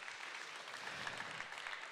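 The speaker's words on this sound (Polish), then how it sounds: "Brawa dla Telewizji Kraków." Audience applause for TV Kraków at a broadcast event, a faint, even patter of many hands clapping throughout the short moment.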